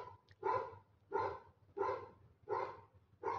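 Dog barking inside a horror-style scare challenge video game, five loud evenly spaced barks roughly every 0.7 seconds, close and alone over a low background hum.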